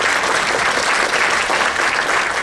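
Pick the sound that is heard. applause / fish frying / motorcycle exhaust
applause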